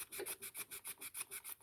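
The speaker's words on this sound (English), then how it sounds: "Very fine bit of sandpaper here, bit of wet and dry." Very fine wet and dry sandpaper worked mostly dry, about ten quick even back-and-forth rubbing strokes with a bright hissing rasp, close and alone with no talk.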